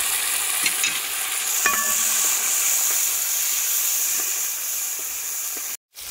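Okra and tomato hit hot oil for a Kerala sambar, giving a steady, fairly loud sizzling hiss that runs unbroken and close, with no talking over it.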